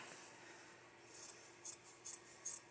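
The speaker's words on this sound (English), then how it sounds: "You're going to take a nice sharp pair of scissors and decide how long you want your fringe to be." Sharp scissors snip through fabric to cut a fringe, four quick, crisp cuts close up in a quiet room, each a brief bright slice following the last at a steady pace.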